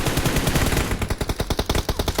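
Rapid automatic gunfire in the PUBG Mobile battle game, a loud sustained burst of shots that settles into a fast, evenly spaced rattle, heard alone.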